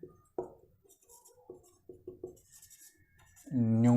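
Handwriting during a probability lesson: a handful of short, scratchy strokes across the first couple of seconds, close and fairly quiet, followed by a voice that begins speaking loudly near the end.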